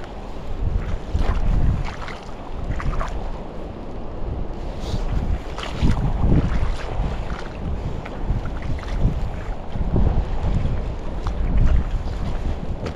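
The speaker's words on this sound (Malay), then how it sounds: "Suara angin mendayu-dayu." Strong wind blowing across a seashore at night before dawn, loud gusty buffeting with heavy microphone wind rumble, continuous and surging throughout with no voices.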